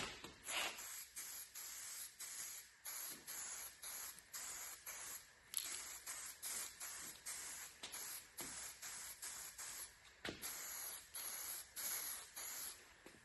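Light passes of spray paint hiss onto a 1958 Dodge crew cab, repeated bursts of steady airy spraying separated by short pauses, close and fairly loud throughout.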